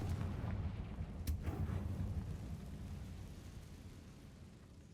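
A Confringo curse spell from the Hogwarts Legacy video game erupts in a loud, rumbling blast that fills the whole clip and slowly fades, with a sharp crackle early on.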